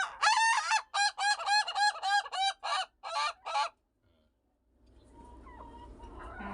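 An Indonesian laughing chicken gives a rapid, rhythmic run of about ten loud, close, cackling pulses, then falls silent, leaving only faint background ambience.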